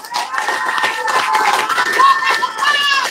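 An audience applauds a Muhammadiyah legal aid group at an Indonesian gathering, a crowd noise of scattered clapping and cheering mixed with overlapping voices.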